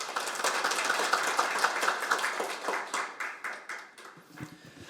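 Audience applause at a seminar on delayed post-war PTSD and veterans' policy welcoming a parliamentary defense committee chairman, dense clapping that thins into scattered individual claps over a few seconds.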